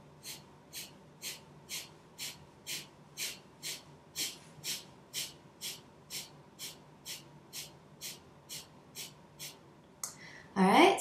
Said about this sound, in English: it's actively exhaling through the nostrils while we draw the abdominal muscles in to push the diaphragm up and expel the air